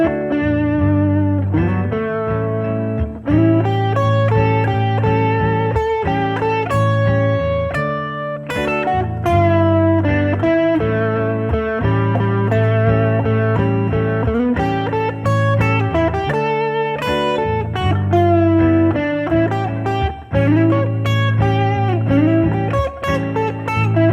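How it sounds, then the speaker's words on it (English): Distorted electric guitar solo played over a backing chord progression, with emphasized, sustained lead notes and bends running loud and continuous throughout. "So I'll turn on a little bit of distortion, and you want to kind of really, emphasize those notes."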